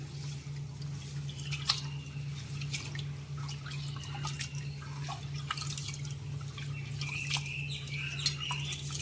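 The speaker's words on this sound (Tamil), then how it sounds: "இந்த அரிசியை வந்து தண்ணி ஊற்றி நல்லா கழுவி அலசி வச்சுக்குவோம்." Soft splashing and dripping as varagu (kodo millet) rice is rinsed in water, small clinks, close by and fairly quiet, over a low steady hum, no talking.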